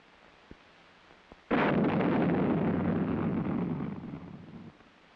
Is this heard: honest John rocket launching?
yes